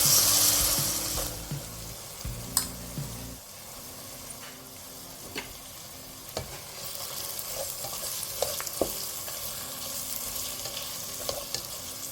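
Onion, ginger, garlic, green chilli and coriander leaves sautéing in ghee for a Kerala egg biryani, a steady close sizzle with clinks and scrapes of a spoon stirring the pan.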